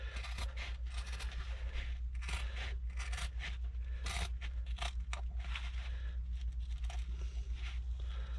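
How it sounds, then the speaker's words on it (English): Scissors cut through material during a DIY shed build made from old materials, giving a series of quiet, irregular snips and scraping crunches over a steady low hum. "And now I've got scissors."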